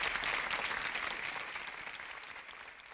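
Recorded live-audience clapping at the close of Arlo Guthrie's Alice's Restaurant, a soft, distant wash of many hands that slowly fades out.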